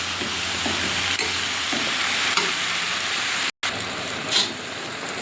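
Fish curry (fish jhal with ridge gourd) sautéing in a pan, giving an even, rain-like sizzle with soft stirring touches, interrupted briefly by a moment of silence before the frying resumes, with no voices.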